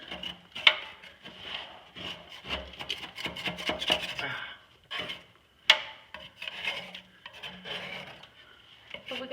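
A GIE scraper rasps hardened, concrete-like deposits off a Ferris IS-3200Z zero-turn mower in repeated close scraping strokes, with a few sharper knocks between them.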